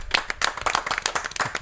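Studio audience of a French evening game show claps for a tied contestant, a brisk scattering of sharp hand claps with no talking.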